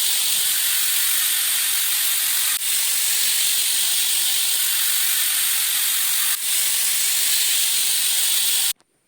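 A pressure cooker on a gas stove vents steam in a loud, continuous hiss, with two brief dips partway through, cooking a cowpea curry; the hiss cuts off abruptly near the end.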